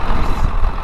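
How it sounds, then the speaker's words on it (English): Massey Ferguson 3690 tractor idling with the PTO engaged, a steady low diesel rumble, close and loud, with no talk. "PTO is idling."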